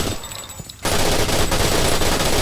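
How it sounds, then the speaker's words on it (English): A machine gun fires in the video game Painkiller, starting abruptly after a short quieter stretch and then blasting on as a loud, dense, continuous rattle of rapid shots. "It's a pretty terrible sounding machine gun though."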